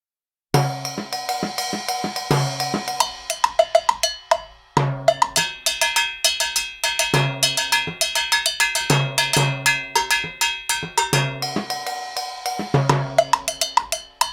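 Bright metallic timbale hits in quick syncopated Latin Cuban patterns with rolls and accents, playing alone at a steady groove with short pauses between phrases.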